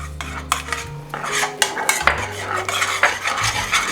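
A spoon stirring chia seeds into thin oat bran porridge in a bowl, quick clinking and scraping strokes against the dish with soft wet swirling, close and steady.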